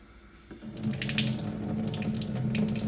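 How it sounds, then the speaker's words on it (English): Tap water gushes steadily from a faucet with its aerator removed. It starts as a softer trickle, then swells into a full, close splashing flow that keeps running unbroken. "just turn it on slowly, let some of that water come out"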